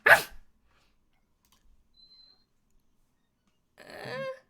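During a tabletop role-playing game session, a person imitates a dog's bark. A short, sharp vocal burst comes first, then near silence, then a longer, wavering bark-like yowl at the end, close and fairly loud.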